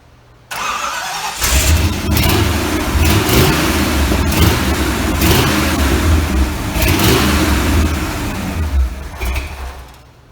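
A V8 engine in a Toyota mini truck cranks and catches, then runs loud and rough with repeated revs rising and falling, close by.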